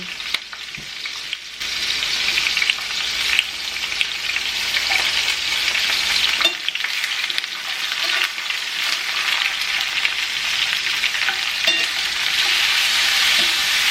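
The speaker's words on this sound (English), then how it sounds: "now I'm gonna fry up my vegetables for my sauce" Tomatoes, jalapeno and onion frying in a pan, a dense continuous sizzle with occasional stirring scrapes, close and steady with no talking.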